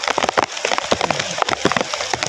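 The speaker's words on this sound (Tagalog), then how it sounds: "Ulan na, ulan oh." Heavy rain falling and pattering on nearby surfaces, loud dense irregular drops and splatters throughout.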